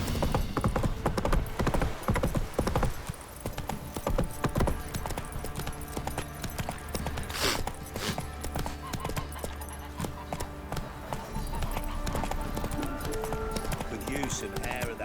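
Horse hooves gallop in The Witcher 3: Wild Hunt on PS5, with a busy, continuous clip-clop rhythm close up, mixed with game sounds and occasional voices.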